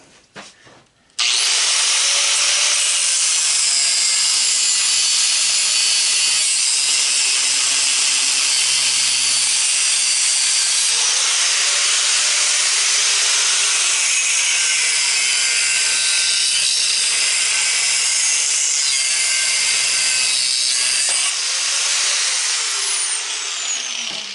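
An angle grinder cutting apart an old electric motor being scrapped for copper and aluminum, a loud, close, continuous high-pitched whine and grinding that starts abruptly and runs steadily for over twenty seconds with slight shifts in pitch.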